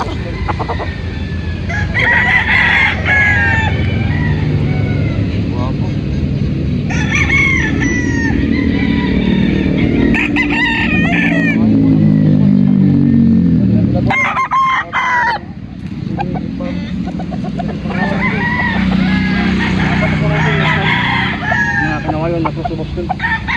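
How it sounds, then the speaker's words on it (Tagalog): Kanawayan x Boston cross stag roosters crow repeatedly at a game farm, several loud close calls overlapping amid clucking and background voices. "Stag po na kanawayan cross sa Boston."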